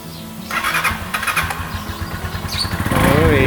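A Bristol Bobber 650 motorcycle engine cranks and fires up close by, catching and revving with rising throttle blips and a rough idle, loud and unaccompanied by talk.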